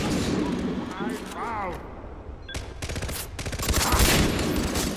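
Far Cry 3 co-op gunfire rattles in dense, rapid volleys that swell toward the end, mixed with game noise while players talk over it.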